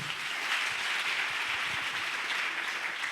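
A church congregation claps together in sustained, moderately quiet applause that holds evenly from start to finish with no voices over it.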